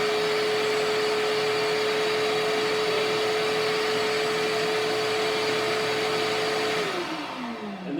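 A $49.99 Home Depot vacuum cleaner hooked to a homemade record cleaning machine drones steadily and loudly with a constant whine, then winds down near the end as it is switched off.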